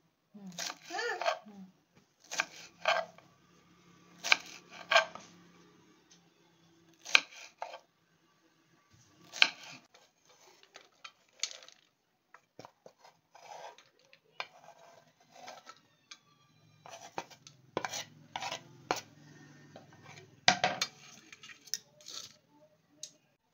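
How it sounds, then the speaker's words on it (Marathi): A knife finely chopping shevala vegetable on a board, giving bursts of quick close cuts separated by pauses, with a voice talking underneath at times. "आपण शेवळा आहे ना कापून घेणार आहे, बारीक बारीक असा"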